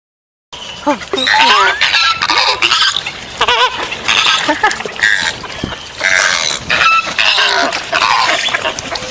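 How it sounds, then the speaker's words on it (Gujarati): Flamingos give loud, harsh honking squawks in quick overlapping bursts, a busy and raucous run of calls that carries on after a brief silent start. "હવે આપણે ફ્લેમિંગોનો અવાજ સાંભળીએ"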